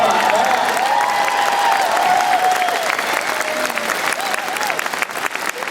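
A town hall audience in Ashland, Oregon breaks into dense, sustained clapping, with some cheering and a few raised voices mixed into the applause before it begins to taper.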